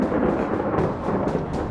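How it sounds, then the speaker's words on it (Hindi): Thunderstorm at a hundred-foot-tall temple: dense, heavy rain hissing steadily, with rolling thunder surging in several repeated booms. "गरजते बादल, कड़कती बिजली, मूसलाधार बारिश भी यहां भूतनाथ का मानो श्रृंगार करती हैं।"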